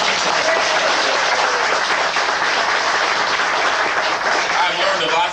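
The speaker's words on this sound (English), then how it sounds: "Give them one more round of applause." A steady, full round of applause from a tour group in Egypt, many people clapping continuously and evenly at close range for the whole stretch, with no break or swell.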